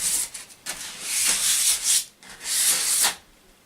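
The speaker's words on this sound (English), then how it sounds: "Okay, you've done the sanding now." Sandpaper rubs over woven Lloyd Loom furniture in a few long, close scratchy strokes with short gaps between them.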